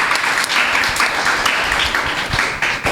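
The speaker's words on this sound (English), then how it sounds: "I also would like us to applaud them also" An audience claps for football coaches at a primary schools tournament awards and closing ceremony, producing a short burst of steady, fairly loud applause.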